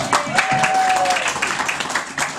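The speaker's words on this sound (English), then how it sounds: "Will you give him a big round of applause, please?" A comedy club audience applauds a performer, with dense, steady clapping throughout and a faint tonal whistle near the start.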